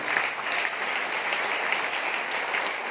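A large audience at a public event in Chhatrapati Sambhaji Nagar (Aurangabad) claps loudly and steadily, a dense, continuous wash of applause with no pauses.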